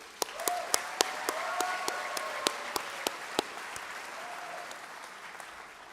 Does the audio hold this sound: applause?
yes